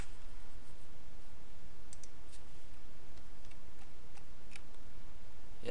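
Computer keyboard keys clicking during a Happy Wheels game session, with sparse, faint taps and clicks scattered over a steady background hiss and no talking.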